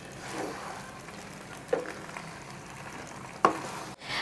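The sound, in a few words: stirring pasta with white sauce and vegetables in pan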